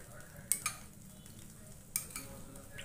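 Spoonfuls of oil go into a pan to start a bitter gourd curry, heard as a few light metallic clinks of a spoon against the pan over a quiet, faintly hissing kitchen background.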